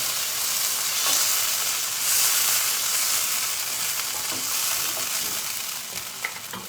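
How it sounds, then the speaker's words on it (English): Pieces of beef steak fry in a pan, giving a steady, dense sizzle and crackle that stays loud and close throughout, with no voices. "it's just lovely, tender pieces of beef steak fried off"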